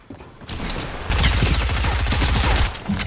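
Automatic turret in Fortnite firing a rapid, sustained burst of gunfire that is loud and close, with quieter shots leading in before the full barrage.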